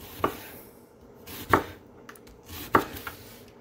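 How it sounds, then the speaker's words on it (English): A knife chops onion on a cutting board in three separate, evenly spaced thuds, close and crisp against a quiet room with no talk. "we're going to cut up some onion here"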